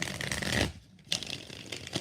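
Tarot cards being shuffled by hand, close and crisp, in two riffling bursts separated by a brief pause.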